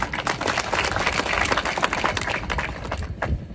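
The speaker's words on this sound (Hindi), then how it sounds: "अब ताली तो बजा दी" A crowd at a political rally in Guna district breaks into dense, sustained applause, with loud continuous clapping filling the whole stretch and easing slightly toward the end.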